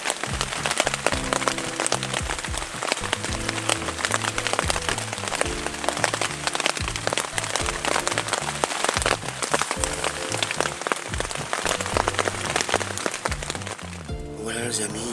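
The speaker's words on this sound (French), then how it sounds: "Et il pleut sévèrement." Heavy rain falling at night around 11:43 pm, a dense steady hiss of drops pattering on surfaces, loud and continuous with faint background tones beneath, easing slightly at the very end.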